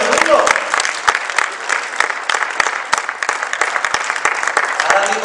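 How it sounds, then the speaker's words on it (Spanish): A church congregation applauds steadily throughout, a dense, loud wash of clapping with a few sharper individual claps and a brief voice near the start. "aplauso a Dios."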